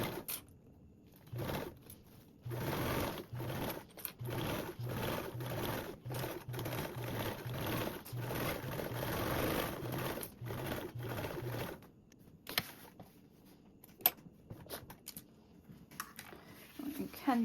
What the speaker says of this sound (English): We're sewing with a 3/8 seam allowance.